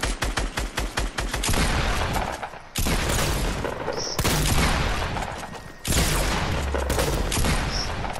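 Gunfire in the Fortnite video game: a rapid burst of sharp shots followed by sustained, dense bursts of loud automatic fire with booming impacts, continuous and close, interrupted by brief pauses.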